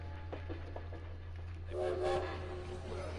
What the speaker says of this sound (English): At the train depot in Paris, trying to reach his regiment at platform 21